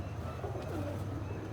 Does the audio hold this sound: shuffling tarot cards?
no